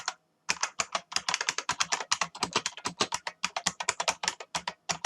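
A password is typed on a computer keyboard in a fast, uneven run of crisp keystrokes, close and clear with no talking.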